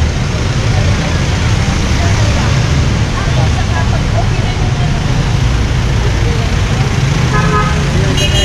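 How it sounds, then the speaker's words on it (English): Busy Manila street traffic with a mix of motorbikes and cars, a steady loud roar of engines close by throughout, with scattered horn toots and a voice talking faintly in the mix. "here they've got a mix of motorbikes and cars"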